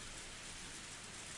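Heavy rain downpour ambience in the Higurashi When They Cry visual novel, a soft, steady wash of falling rain with no other sounds.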